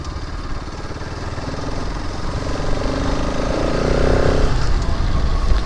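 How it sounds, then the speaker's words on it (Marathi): A motorcycle pulls hard in third gear on a ride near Chonda dam, its engine a loud, close, rapidly pulsing drone that steadily climbs in pitch and volume, with wind rush and no clear talk. "तिसरे गिअर गाडी प्रॉपर उठत आहे ना."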